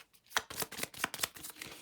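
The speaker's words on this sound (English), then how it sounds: "I will shuffle them." Two adventure-game cards from the Pathfinder card game shuffled by hand, a quick series of close riffling, slapping card sounds lasting under two seconds.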